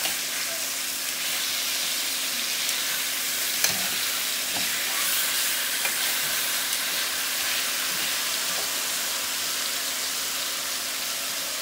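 Pork chops brown in a skillet with a constant loud sizzle and hiss, heard up close with faint occasional clinks and shifts.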